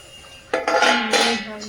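Metal cooking pot lid clanking and clinking a few times against a pot in a home kitchen during curry cooking, sharp bright clatters close by with a faint voice underneath.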